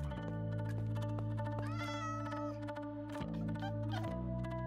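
A cat meows in Minecraft 1.19, a short rising mew heard over steady, tonal in-game music.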